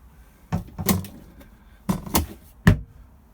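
Cupboard door in a 2015 Autosleeper Nuevo motorhome bathroom unit, opened and closed with a few short knocks and clicks, close and fairly loud, alone.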